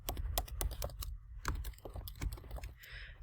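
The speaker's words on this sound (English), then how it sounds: "typing your answers" Fast, close typing on a computer keyboard, a dense run of crisp key clicks in an irregular rhythm with short pauses, alone without speech.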